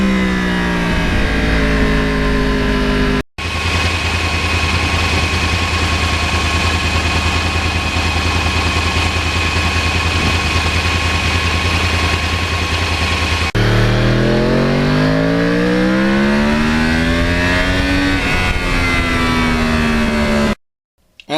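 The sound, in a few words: Yamaha R1 crossplane motorcycle engine revving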